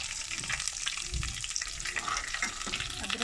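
Coarse hand-chopped minced meat (keema) frying with ginger in a hot pan, a steady close sizzle with stirring scrapes and a brief heavier crackle partway through.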